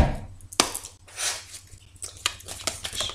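A deck of tarot cards being cut on a table: a handful of sharp, close slaps and taps scattered among softer rustling, with no talking.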